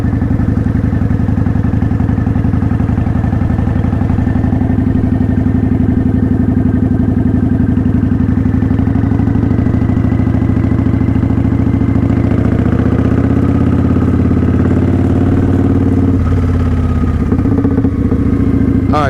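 A motorcycle engine runs steadily and loudly, its note changing around the middle as the rider shifts gears, with clutch clatter late in the clip and no talk.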